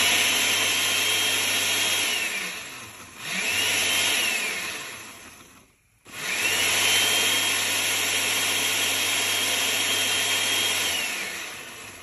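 A blender grinding yellow ají pepper paste for sofrito, a loud steady motor whine in long runs that stops briefly twice, then starts up again and carries on.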